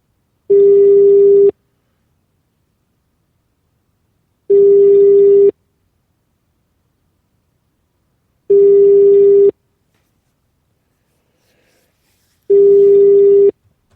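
Four evenly spaced bursts of a telephone busy signal, each a steady one-second tone separated by three seconds of silence, clear and close over a phone line when calling the Knesset.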